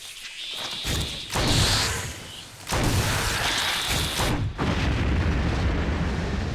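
Explosion of a capsule in Resident Evil, heard as two heavy booming bursts about three seconds apart, each rumbling loud and broad before settling into a sustained roar.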